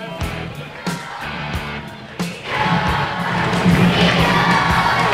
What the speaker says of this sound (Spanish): un aplauso grande para Vicente Viloni